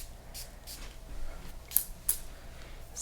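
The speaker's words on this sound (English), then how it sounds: "Just going to spray." A spray bottle of peppermint, eucalyptus and geranium mist fires a few soft, close hissing bursts during a quiet scalp massage, the spritzes spaced irregularly and faint, with no talking.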